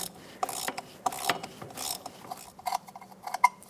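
Socket wrench ratcheting on the 10mm ABS sensor mounting bolt at the rear wheel bearing of a 2007-2012 Nissan Versa, close, quiet clicking bursts in short irregular runs.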